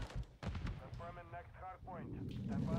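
Gunfire and explosive booms from Call of Duty MW3 multiplayer, heard as rumbling blasts and shots beneath a player who keeps talking throughout.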